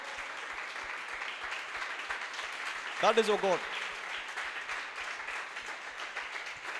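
A church congregation claps steadily and continuously, a dense wash of applause from a crowd, while a voice speaks briefly over it.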